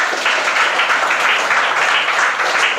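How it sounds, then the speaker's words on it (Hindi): An audience in a classroom claps loudly and steadily after a maths calculation game, a dense, continuous round of applause without speech. "एक बार सर के लिए जोरदार ताली।"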